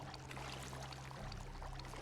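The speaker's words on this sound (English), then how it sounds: "We're going to spam this junkyard fountain and get some water." Water gushing steadily from a junkyard fountain in the Fallout 76 video game, a soft continuous pouring and splashing at low level with no talking.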